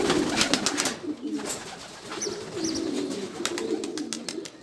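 Several pigeons coo in low, rolling calls close by, mixed with flapping wings and brushing noises of birds taking off in an outdoor loft.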